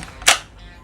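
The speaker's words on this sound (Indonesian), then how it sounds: "Mengokang bagian atas ini jikalau tidak ada peluru sama sekali. Jadi harus dikokang." A single sharp mechanical clack as the upper charging handle of an E&C M4 EC881A airsoft gun is cocked, close and loud in an otherwise quiet moment.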